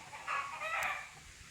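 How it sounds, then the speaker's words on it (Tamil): Native country chickens on a farm give a short run of clucking and crowing calls, moderately close and fairly quiet, with no talk over them. "நாட்டு பியூர் நாட்டுக்கோழிகளை வளர்த்துட்ருக்கேன்"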